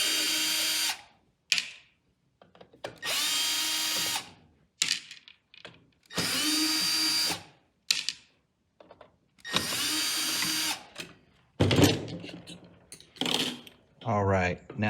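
A power drill drives out screws from the back panel of an 18x18W PAR can stage light, whirring in several short bursts separated by pauses, with someone talking between them.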